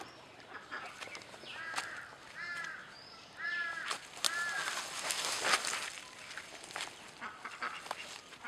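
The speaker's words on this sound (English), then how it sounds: "Wait, is that a goose?" Outdoors in nature, a goose gives several honking calls in short pairs and bursts, moderately distant, over rustling background noise with scattered clicks and faint voices.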